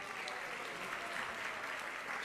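An audience at the ISKCON New York fundraiser applauds a pledger with soft, continuous clapping that sounds somewhat distant and stays even throughout.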